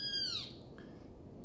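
A small bird gives a quick series of high, thin chirps that sweep downward, then falls quiet apart from a brief faint call near the end, all against a soft, steady background hum.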